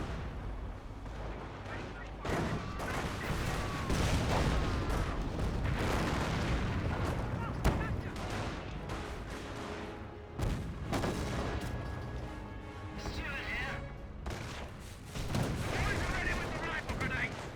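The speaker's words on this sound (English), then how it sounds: "Incendiary mortar dropped on top of the VP." Incendiary mortar fire lands in the Company of Heroes video game, a string of heavy booms and crackling blasts with a match commentator talking over them throughout.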